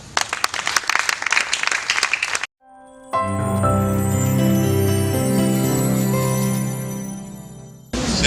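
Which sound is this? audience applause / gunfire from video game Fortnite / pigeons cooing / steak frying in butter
audience applause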